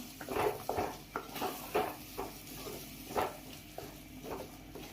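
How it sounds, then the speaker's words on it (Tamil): Ground coconut paste being sautéed for brinjal curry, with rhythmic scraping stir strokes in a pan and a faint sizzle underneath, close and moderately loud, with no talking. "இதை நல்லா வதக்கிக்கலாம்"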